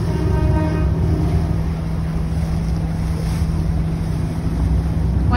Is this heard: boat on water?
yes